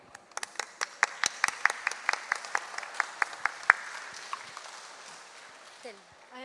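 At a panel discussion during a book fair, a small audience claps in a rhythmic, fairly even series of sharp claps that softens into a looser patter, and a voice starts in at the very end.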